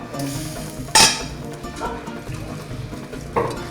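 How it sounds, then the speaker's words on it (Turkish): Tomato vermicelli soup is stirred in a pot, with soft scraping and a few sharp spoon clinks against the rim over a low background hiss. "Şöyle karıştırıyorum."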